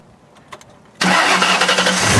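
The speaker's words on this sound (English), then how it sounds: "now let's crank her up and see if she'll start" A car engine cranks briefly after a quiet pause, then catches and roars into a loud, steady idle after a corroded battery terminal is cleaned and tightened.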